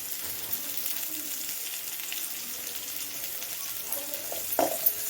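Curry leaves frying in a pan for a village-style greens and lentil dish, a soft continuous sizzle heard up close, with a few light stirring knocks toward the end.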